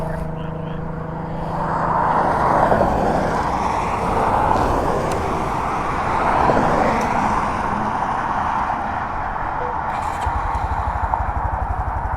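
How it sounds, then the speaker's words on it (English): A loud Subaru BRZ sports car engine roars steadily nearby, swelling and easing as it passes, with road noise filling the background. "a Subaru BRZ? What the hell is that thing? It's obnoxiously loud."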